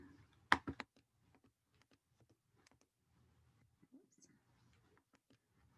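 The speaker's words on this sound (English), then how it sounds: "One-handed typing here" A few sharp clicks, then sparse, quiet keystrokes tapping irregularly on a keyboard in an otherwise silent room.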